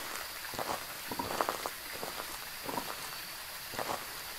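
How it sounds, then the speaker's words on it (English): Rain falling at Camp Woodwind in the video game Phasmophobia, a steady soft patter with scattered louder drop-like taps, moderately close and without talk. "It's raining."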